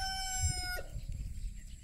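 Chickens at a farm in Malaysia, with a sustained tonal bird call in the first part that breaks off, then low scuffling and farm ambience; close and moderately loud, no talk.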